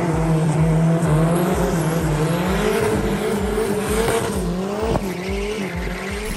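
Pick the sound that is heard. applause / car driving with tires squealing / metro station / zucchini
car driving with tires squealing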